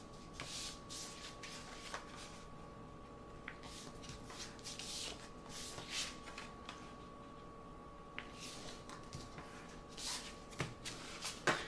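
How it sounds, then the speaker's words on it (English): Sheets of regular blue paper folded in half one after another for a crude photo book mock-up: quiet, close crisp rustles and soft creasing sweeps recurring every second or two, no talking. "So I just have some regular blue paper here. We're just going to fold it in half."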